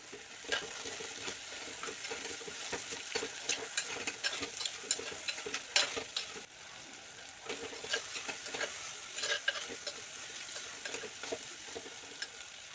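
Tomatoes with curry leaves being sautéed in a pan for a chundakka curry, a continuous sizzle with repeated spatula scrapes and stirring, moderately close.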